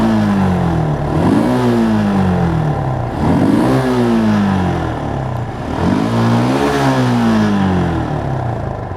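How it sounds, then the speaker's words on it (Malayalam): A 2015 Suzuki Gixxer 155 motorcycle's bassy exhaust note swells through three revs, each pitch rising and then falling back to a throbbing idle, loud and close with no talking. "ഇനി ഈ വണ്ടിയുടെ എക്സോസ്റ്റ് നോട്ടും കൂടെ ഞാൻ ജസ്റ്റ് ഒന്ന് കേൾപ്പിച്ചു തരാം"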